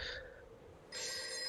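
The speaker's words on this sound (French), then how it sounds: "le téléphone sonne." An old-style telephone bell rings at a police station, a bright metallic trill heard faintly at first, pausing briefly, then ringing again steadily over a low room hum.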